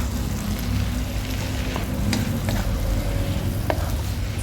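Clams with basil leaves stir-fry in a pan, a continuous close sizzle broken by sharp clicks and scrapes of the spatula against the metal, with no voices.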